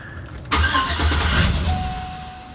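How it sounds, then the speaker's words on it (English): A 2004 Chevy Silverado truck engine cranks briefly, then catches and starts with a loud close roar that settles toward a steady idle. "are you far enough that I shouldn't crank the truck?"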